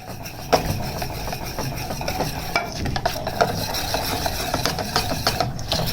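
A spoon scrapes and stirs a thick mix of flour, eggs and melted ghee for halwa in a pan, with continuous close rasping and irregular knocks against the metal.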